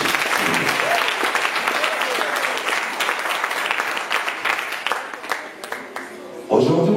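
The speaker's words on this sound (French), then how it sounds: "Est-ce qu'on peut applaudir?" A crowd applauds in thanks at a community gathering, a dense wash of clapping that thins toward the end before a sudden louder burst of sound at the close.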